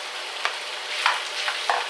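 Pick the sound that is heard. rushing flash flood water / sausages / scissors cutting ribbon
sausages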